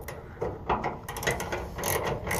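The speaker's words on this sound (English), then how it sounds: "Grab the wrench." Ratchet wrench working on a Dodge Ram fender during quarter panel repair, a rapid run of close mechanical clicks and ratcheting over about two seconds, with no talk.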